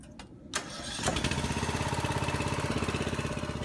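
A foundation pier jacking machine's small engine cranks over briefly, catches and settles into a steady, close, rhythmic chugging idle.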